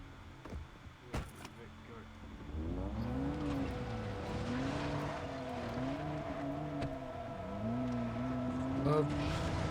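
A car driven in the video game Far Cry 3, its engine starting up and revving steadily with rising and falling pitch for several seconds, preceded by a few clunks and a short burst of speech.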